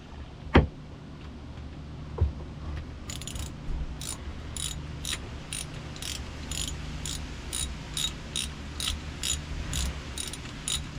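Part screwed in by hand during an oil change on a Seadoo GTI 130, a couple of sharp clicks, then a long run of regular ratcheting clicks, close and fairly quiet, no talk.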